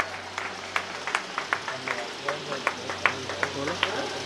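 An audience claps at a school function at J.P.J. Gyandeep Academy in Ghazipur. The steady, rhythmic claps are moderately loud and slightly distant, with a voice faintly audible underneath.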